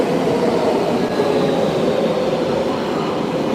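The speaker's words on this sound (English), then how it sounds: "I like riding the train." Steady, loud rumble and rushing roar from inside a moving train, with wheel and track noise holding constant throughout and no voices.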